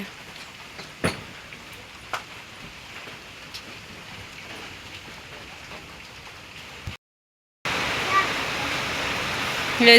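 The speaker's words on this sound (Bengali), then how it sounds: "বৃষ্টি পড়তেছে" Steady rain patters in a soft continuous hiss, with a few sharp knocks, a brief drop to silence, then the rain returns louder.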